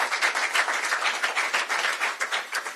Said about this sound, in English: another round of applause for the president, the great team here at the university